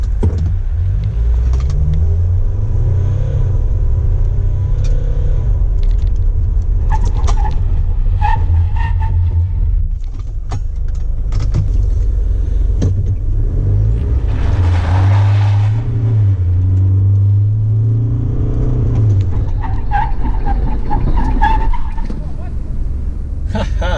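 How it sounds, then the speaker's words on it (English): A pickup truck engine runs loudly throughout, revving up with a building roar as it accelerates from a stop to 70 km/h, then easing off under hard braking, with faint tire noise and some speech mixed in. "from a stop, we hit the gas, hit 70 kilometers per hour, we slam on the brakes"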